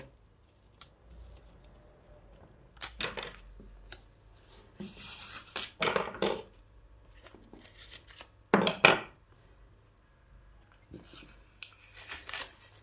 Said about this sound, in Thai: ใช้เทปกาวกระดาษย่นนะครับ หรือว่าเทปกาวหนังไก่นะครับ แปะไปอย่างนี้เลย